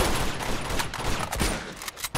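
Gunfire in Uncharted 2: a dense, continuous crackle of many overlapping shots with a few louder cracks standing out, loud and close in a busy firefight.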